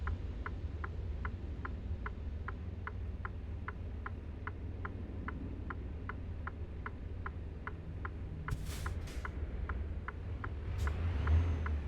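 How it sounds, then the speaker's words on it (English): In American Truck Simulator, a truck engine drones low and steady as it pulls away, with a regular ticking like a turn signal clicking over it. A brief hiss of air near the end comes as the rumble swells slightly. "I love how the truck tries to start in a higher gear and gives up immediately."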